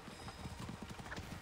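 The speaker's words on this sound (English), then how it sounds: "See, these horses are running on 2 horsepower" Horses galloping in Assassin's Creed Origins during a chariot race, a rapid steady clip-clop of hooves at moderate distance, even and rhythmic throughout a brief stretch with no voices.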